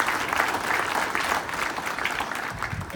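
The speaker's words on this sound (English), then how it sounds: "let's give Oscar Bodie one more round of applause" Crowd applause at an innovation district launch event, steady clapping from many hands filling the room for the full three seconds, with no voices.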